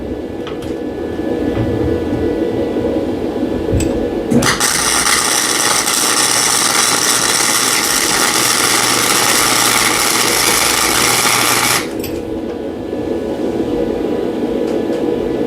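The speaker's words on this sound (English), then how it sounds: "All right, another properly placed weld." A stud being welded in a workshop gives a loud, steady buzzing crackle lasting about seven seconds, beginning and ending abruptly between quieter stretches of room noise.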